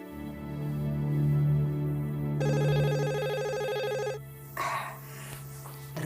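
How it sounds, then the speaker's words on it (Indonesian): A telephone rings in a classic bell-style pattern over a steady low music bed, the ringing loud and continuous for a couple of seconds before cutting off into ambient background sound. "Dara Putri, ada telepon dari Ndoro Yanwar."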